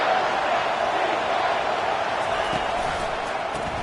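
Steady roar of a football stadium crowd at a Michigan versus Miami game, a dense, continuous wash of many voices with faint scattered shouts and no distinct talk over it.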